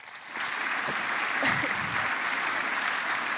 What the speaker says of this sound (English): Can you all please help me in giving the loudest applause for Tom Middendorp?